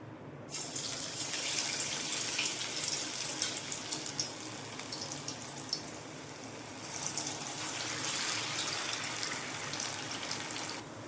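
Potato pakoda pieces frying one by one in well-heated oil in a home kitchen, a dense, steady bubbling hiss with crackle that starts abruptly and stays loud and close throughout, with no talking.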